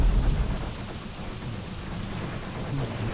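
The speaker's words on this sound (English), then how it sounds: "It's also raining heavily, my goodness. It's a downpour." Heavy rain pours down in a dense, constant downpour across a jungle battlefield in a modern combat strategy game, with low rumbling like thunder beneath the steady hiss and no voices.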